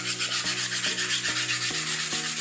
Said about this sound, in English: So I might sand it slightly more